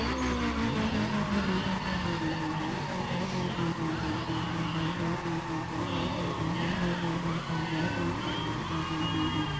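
A car in the Need for Speed ProStreet video game revs hard, its engine whine rising and holding loud and close, mixed with continuous tire squeal and skidding across the whole stretch.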